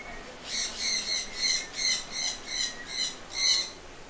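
A colorful bird at a Discovery Cove feeding station in Orlando gives a series of about eight rhythmic, raspy squawks, close and fairly loud, while eating.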